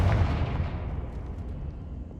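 A Confringo blasting spell explodes in Hogwarts Legacy with a heavy booming burst that rolls off into a long, fading rumble, loud and close, with no voice over it.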